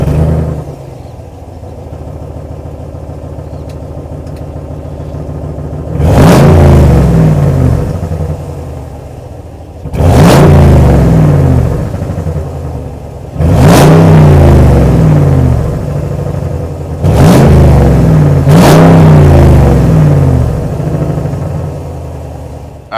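A 2024 Ram 1500 Bighorn pickup's 5.7 liter Hemi V8 with a Flowmaster Super 10 muffler idles with a deep rumble, then revs loudly four times, each burst rising sharply before settling back to idle, close up and without talk.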